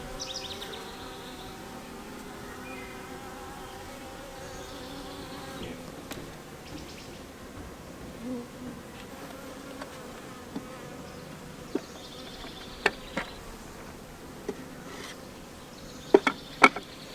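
Honey bees buzzing inside a queen bee package, a faint steady hum, close by, with a few sharp ticks and taps toward the end.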